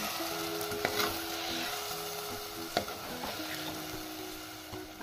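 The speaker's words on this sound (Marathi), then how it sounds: "आता ह्या शेंगा या मसाल्यामध्ये व्यवस्थितरित्या मिक्स करायच्या आहेत." Drumstick pods stirred into masala frying in a pan, with a continuous close sizzle broken by a few soft scrapes and clicks of a spoon, steady and fairly loud with no talking.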